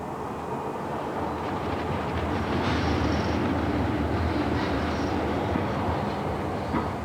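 A Docklands Light Railway train runs through London's Docklands, a steady, loud rolling rumble with faint clatter and a brief higher whine partway through, continuous throughout with no voices.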